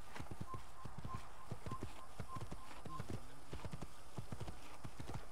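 A horse's hooves clip-clop in Assassin's Creed, a steady run of quick, close hoof strikes over a low background of game ambience.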